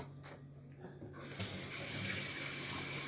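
Hands washed at a kitchen sink while prepping cornbread, celery and onions, with a quiet pause before the tap opens into a loud, steady gush of running water close up, and no talking.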